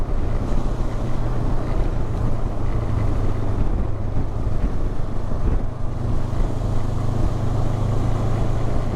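Honda NX500 2024 adventure motorcycle engine pulling hard through fourth gear, a steady loud drone under heavy wind rush across the whole stretch.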